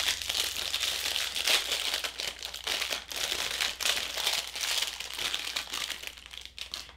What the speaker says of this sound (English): I'll just peel off this blue protective material that's on both sides